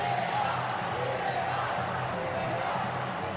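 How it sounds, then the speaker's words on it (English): A football stadium crowd at a Saudi Super Cup semi-final between Al Nassr and Al Ittihad chants and roars steadily, a dense distant wash of voices without a clear rhythm. "Crowd all shouting VAR, VAR."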